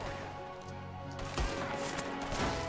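Distant gunfire from the video game Detroit: Become Human crackles in quick bursts over a steady background hum, faint and muffled.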